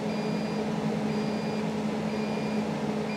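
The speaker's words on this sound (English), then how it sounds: "It's beeping, it doesn't like that." A generator's alarm emits a high electronic beep about once a second, each tone lasting half a second, over a steady machine hum from an Onan generator wired for three-phase power.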